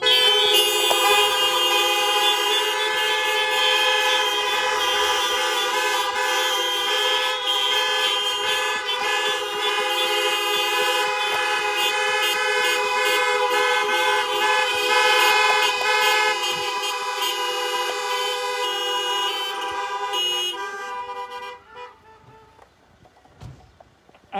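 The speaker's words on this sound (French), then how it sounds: "Alors klaxonnez." Many car horns honk together at a drive-in Easter Mass in Arlon, making a loud sustained blare of overlapping tones that runs for about twenty seconds before breaking off into a few scattered honks.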